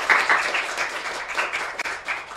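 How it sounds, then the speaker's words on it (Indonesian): An audience at a community gathering applauds in a lively, uneven burst of clapping that stays fairly close and loud, then tapers slightly toward the end. "Tepuk tangan untuk Bu Dilawani."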